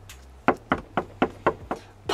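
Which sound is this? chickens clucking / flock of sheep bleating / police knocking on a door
police knocking on a door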